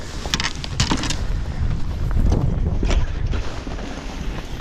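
Steady wind buffets the microphone out on a Wisconsin lake during spring pre-spawn bass fishing, a continuous loud rushing roar with gusts swelling and easing, with no voices.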